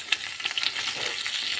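Pork frying in its own rendered fat for adobo sa asin, a close steady crackling sizzle with a few sharp spits and pops near the start, no talk.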